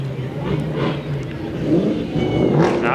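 A classic American car's engine revs at a veterans parade, a throaty rumble that rises and falls under nearby crowd chatter and people talking.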